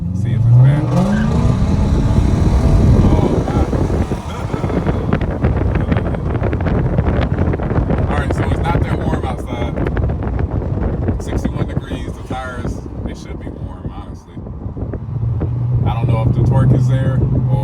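Lexus GS430 fitted with a K&N air filter pulls away from a stoplight, engine noise swelling loud and close with a rising note over the first seconds, then rough rumbling and wind buffeting, settling back to a steady drone near the end.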